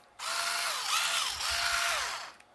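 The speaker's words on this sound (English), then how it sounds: "if you want to use a power drill" A power drill whirring in short bursts, its pitch winding up and down twice, close and fairly loud with no talking.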